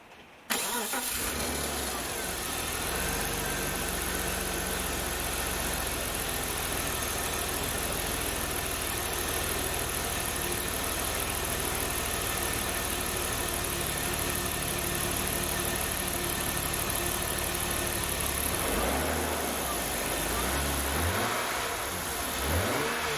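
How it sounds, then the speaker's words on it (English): A BMW E36 325i six-cylinder engine cranks and fires after a brief starter whirr, then settles into a steady, close idle that runs on, with a small change in tone near the end. "I'm just going to start the car, make sure everything is working properly."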